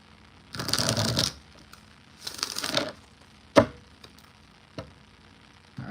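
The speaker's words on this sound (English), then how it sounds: "Let me just shuffle." Tarot cards are riffled and shuffled in two quick bursts, followed by a few sharp taps as the deck is squared on a surface.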